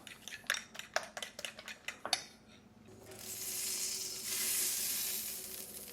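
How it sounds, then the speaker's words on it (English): A sharp burst of sizzling and spattering rises loudly as water hits a hot skillet, preceded by several quick metallic clinks and taps. "Always use the water trick. If that sizzles, we're ready to go."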